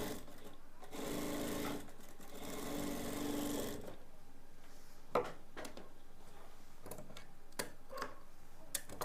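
A sewing machine stitches lace onto a ghaghra in a steady, close whir for about three seconds, then stops, leaving scattered light clicks and handling taps.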